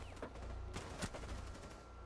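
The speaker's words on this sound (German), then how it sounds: "Ich habe einfach panisch geschossen" Faint, quick bursts of video game gunfire crackle in a short volley, a few sharp shots close together at low volume.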